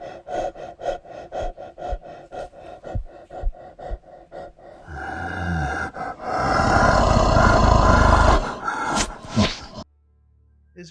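Heavy, rhythmic breathing and snorting from a supposed werewolf, close and loud, with a run of short repeated breaths followed by a longer rough, roaring exhale before it cuts off.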